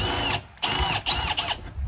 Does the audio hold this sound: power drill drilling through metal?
yes